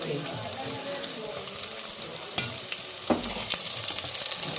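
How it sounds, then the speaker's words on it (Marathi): Onion, garlic and a pinch of asafoetida frying for anda bhurji, a loud close crackling sizzle with a spoon stirring and scraping through the pan throughout. "कांदा पण छान असं छान असं परतून थोडा ब्राऊन होईपर्यंत परतून घ्यायचं"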